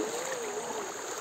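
A strong river current rushes and gurgles around someone wading across, a steady, close, broadband wash of water filling the whole moment with no talking.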